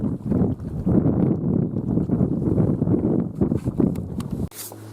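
Gusty wind buffeting the microphone beside a lake, a steady rumbling roar with surges that fills the clip before cutting off near the end.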